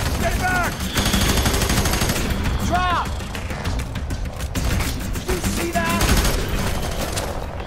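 Gunfire in the video game F.E.A.R. 3 rattles in loud, dense bursts of rapid automatic shots with mechanical reload clicks, continuing throughout under occasional talk.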